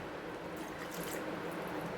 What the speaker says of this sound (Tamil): தண்ணி இதிலே விடுறதுனால கொஞ்சம் கம்மியாக தான் சேர்த்துக்கிறேன்.